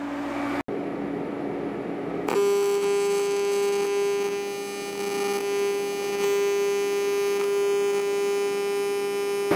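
A TIG welding arc run at too much amperage gives off a steady electrical buzz and hum that starts abruptly after a short pause and holds constant to the end.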